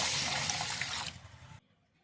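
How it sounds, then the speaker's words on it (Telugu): Water pours steadily over washed rice in a vessel for soaking, a loud splashing rush lasting about a second and a half before stopping abruptly. "3 సార్లు శుభ్రంగా కడుక్కున్న తర్వాత తగినన్ని నీళ్ళను పోసుకొని"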